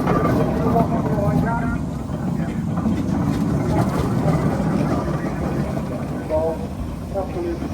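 A Foden steam traction engine, a Devonshire engine at an outdoor steam and traction engine rally at Astle Park, runs with a continuous mechanical rumble and chuff. Voices murmur in the crowd around it.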